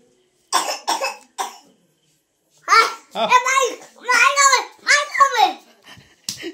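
A young child gives a few sharp coughs, then makes throaty, babbling vocal sounds in short bursts, close and clear in a quiet room.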